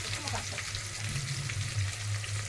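Chilies and mustard seeds crackle and sizzle in hot oil while tempering khaman, a steady close frying hiss with a low hum underneath and no talking.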